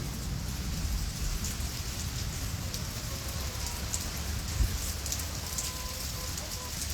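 Steady rain falling outdoors on a farm, a dense continuous hiss of drops on surfaces, moderately loud and unbroken throughout.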